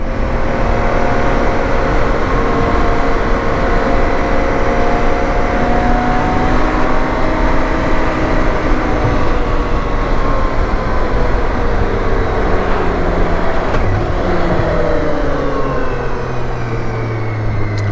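Heavy wind buffeting and road roar while riding a BMW K1600 GTL touring motorcycle, a loud, dense, continuous rush with faint engine tones sweeping underneath and no talking throughout.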